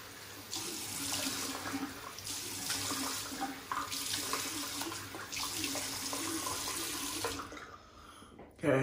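Water runs from a bathroom tap while someone splashes it onto their face before a wet shave, a steady close hiss broken by repeated splashes, then the flow stops abruptly near the end.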